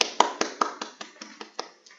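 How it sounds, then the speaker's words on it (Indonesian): Quiet, evenly spaced claps at a brisk, regular beat, about ten sharp smacks in two seconds, from an audience at an Islamic religious education teacher exam session in Gorontalo, Indonesia. "Oke, kita kasih aplaus untuk kita semua"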